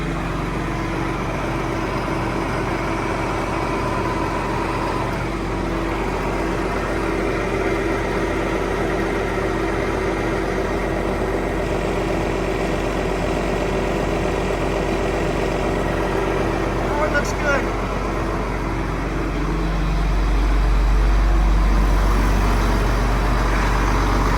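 A John Deere tractor engine runs at a steady idle, a continuous low rumble close by that holds evenly and swells slightly louder near the end, with no talk.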